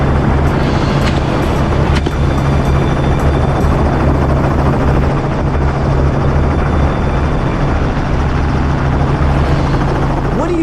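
A helicopter used for hunting wild boar drones loudly and continuously nearby, a deep rotor thrum with a steady low hum running throughout.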